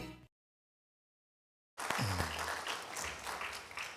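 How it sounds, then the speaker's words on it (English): Applause from the audience at a memorial lecture on civilian oversight of law enforcement, breaking out after a brief silence and continuing as a steady, fairly full burst of clapping with some voices mixed in. "Applause is in order"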